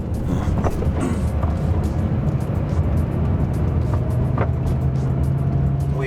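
Inside a gated-manual V10 Lamborghini driving through snow, a steady loud engine and road rumble rises in pitch as the car pulls into third gear.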